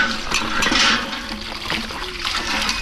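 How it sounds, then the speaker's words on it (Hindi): Water from a village hand pump pours and splashes steadily as okra is washed under it, a continuous close gushing wash with small bursts of splashing. "भिंडी को धोते हैं साफ पानी से।"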